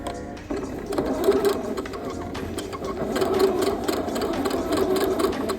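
A sewing machine runs steadily on denim while stitching a dress along a 5/8-inch seam allowance, a close, continuous rapid stitching whir with a brief pause near the start.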